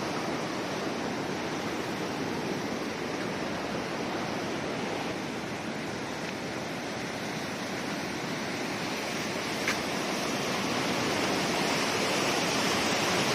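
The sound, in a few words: river water flowing after heavy rain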